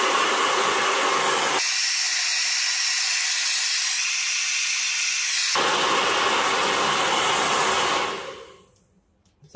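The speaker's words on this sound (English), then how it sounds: "Now with our heat gun." Heat gun warming vinyl wrap on an e-scooter: a loud, steady blowing roar close by, its tone shifting as the gun moves or changes setting, then cutting off near the end.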